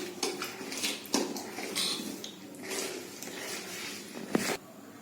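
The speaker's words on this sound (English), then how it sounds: "So I've mixed the rava, the curd and the mattha properly" Rava, curd and mattha mixed together for idli batter, with soft wet squelching and scraping of a spoon in a bowl and an occasional louder knock, close and fairly quiet with no speech.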